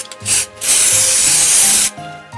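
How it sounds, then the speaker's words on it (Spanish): Spray paint hisses from an aerosol can onto Christmas ornament balls, coating them black, a short burst followed by one long, loud, close spray. "Pintamos las bolitas en negro."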